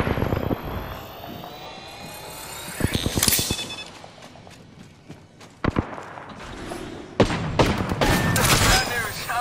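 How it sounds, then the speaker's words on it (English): Bursts of video-game gunfire aimed at the player crack in volleys and isolated shots, mixed with a helicopter-like drone and loud, close impacts. "Yeah, I'm getting shot at."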